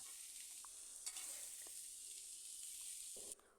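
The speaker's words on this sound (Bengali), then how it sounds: "ভালো করে আবারও আমি লাড়িয়ে চাড়িয়ে দিচ্ছি এভাবে আমি চার পাঁচ মিনিট বেজে নেব সিম আর ফুলকপির ডাটা" Cauliflower stems and flat beans being stirred in a pan with turmeric, with a steady soft sizzle and a few scraping stir sounds, heard alone without talk.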